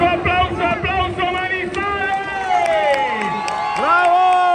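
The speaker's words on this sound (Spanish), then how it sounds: "¡Aplauso, aplauso, aplauso," A crowd at a dwarf bullfighting show in Manizales cheers and shouts enthusiastically, with sung and chanted voices rising and falling over a background of applause and crowd noise.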